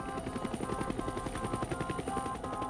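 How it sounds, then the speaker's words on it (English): A large rescue helicopter equipped to carry a critically ill patient, at a flooded hospital in New Orleans after Hurricane Katrina, gives a steady rapid rotor chop that stays loud and close the whole time, with no one speaking. "They have a chopper, and it's big enough."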